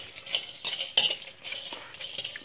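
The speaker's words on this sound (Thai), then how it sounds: "คั่วพริกแล้วก็มะแขวนนะครับแล้วก็ลูกผักชีนะครับแล้วก็ดีปรีนะครับ" Dried chilies, makhwaen, coriander seeds and long pepper are dry-roasted and stirred in a pan, giving soft rattling scrapes and light clinks of a utensil against metal, continuous and close.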